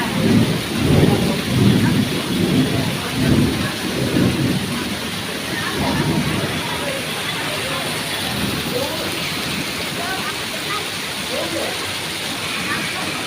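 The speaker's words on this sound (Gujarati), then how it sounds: "હાલો વરસાદ જોવા." Heavy rain pours down in a steady, loud roar while low rumbles of thunder roll through the first half, and people talk nearby.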